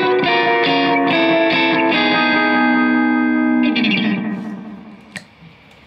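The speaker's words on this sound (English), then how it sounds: "The Maxon is more of a darker sounding delay" Electric guitar through a Maxon AD9 analog delay pedal, a few strummed chords ringing out with dark, warm repeats that fade away into near silence at the end, played alone.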